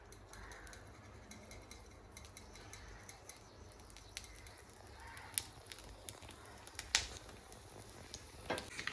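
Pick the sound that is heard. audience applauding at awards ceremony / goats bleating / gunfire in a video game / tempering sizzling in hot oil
tempering sizzling in hot oil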